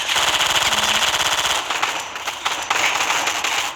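Sniper rifle fire in an online shooter video game, heard as dense, loud rapid cracking bursts that run almost continuously for about four seconds, with a short dip in the middle.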